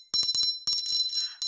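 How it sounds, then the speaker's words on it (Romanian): Small handmade bell shaken by hand, bright metallic rings in two quick bursts of several strikes each, the last tones ringing out and fading before another ring begins. "În primul rând am acest clopoțel handmade."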